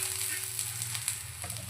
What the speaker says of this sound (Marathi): आपल्याला कांदा भाजून घ्यायचा आहे. छान असा आपल्याला काळसर असा कांदा हा परतून द्यायचा आहे.